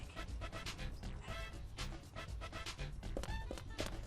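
A dog pants in the video game Deadly Premonition, a quick, rhythmic huffing of short breaths, close and quiet, with faint game sounds behind it.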